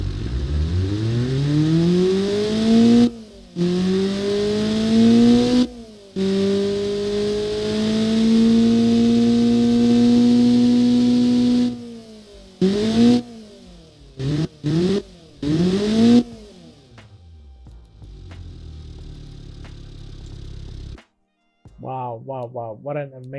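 Honda D16V1 engine revving on a dyno, long loud pulls rising steadily in pitch, then a run of short sharp blips, ending in quieter idle and fainter sounds.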